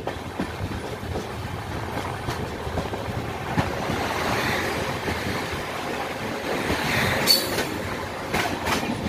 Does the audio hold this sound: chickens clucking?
no